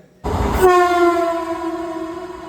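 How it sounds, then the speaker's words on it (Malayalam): Trivandrum–Kasaragod Vande Bharat express arriving at a platform at Vadakara railway station, sounding a long, loud horn blast that holds steady and slowly fades, with no talk. "ട്രിവാൻഡ്രം കാസർഗോഡ് വന്ദേ ഭാരത് ഒന്നാമത്തെ പ്ലാറ്റ്ഫോമിലേക്ക് വരുന്നുണ്ട്"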